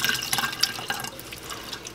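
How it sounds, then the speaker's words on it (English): Fermented chicken-feed grain liquid is poured into a filter, a close, trickling splash with small drips that eases off after about a second. "So I'm just pouring it in a filter."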